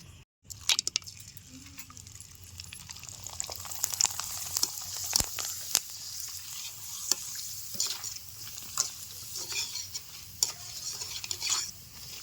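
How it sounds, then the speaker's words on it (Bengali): Potato papads crackling and sizzling in hot oil, with sharp clicks and scrapes of a utensil recurring throughout, fairly close. "তেল গরম হয়ে গেছে অল্প অল্প করে পাপড় দিয়ে ভাজে নেবো"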